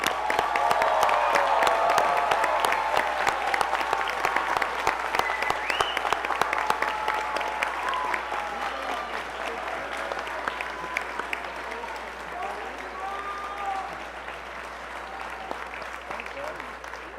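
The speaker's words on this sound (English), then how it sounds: "Let's give them a round of applause." An audience at a community college commencement applauds the honored graduates, sustained crowd clapping that fades slightly toward the end, heard somewhat distant over a low room hum.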